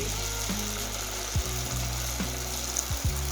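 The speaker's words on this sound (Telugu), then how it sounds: "మీడియం ఫ్లేమ్లో పెట్టుకొని డీప్ ఫ్రై చేసుకోవాలి" Paneer popcorn deep frying in a pan over a medium flame, a steady close sizzle and bubbling hiss with a few soft low knocks, no talking.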